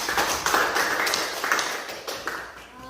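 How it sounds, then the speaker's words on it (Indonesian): A small classroom group claps for a presenting group, a short burst of close, uneven hand claps with a few sharper taps that fade toward the end. "tepuk tangan untuk kelompok 3."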